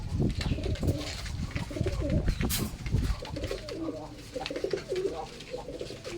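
Pigeons coo steadily in a loft, the low throaty calls overlapping and rolling on throughout with a busy murmur of other birds and faint voices.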